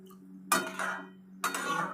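Ash gourd with shrimp stirred in a cooking pot, two short clattering scrapes of a utensil against the pot over a faint steady hum, quiet and close.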